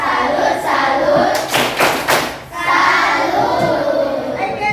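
Classroom of students doing the rhythmic Indonesian 'tepuk salut' clapping chant, a burst of loud group claps and thumps in the middle amid chanting voices.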